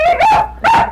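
A dog barks twice in quick succession, loud and close, each sharp bark with a tonal, slightly whining edge, as it demands a sock held up in front of it.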